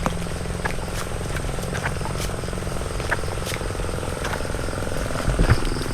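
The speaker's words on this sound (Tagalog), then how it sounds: "Ayos, sumaandar yung makina." A water pump engine runs steadily beside a fish pond flooded by heavy rain, a constant mechanical drone overlaid with insect and frog calls, with a brief louder thump near the end.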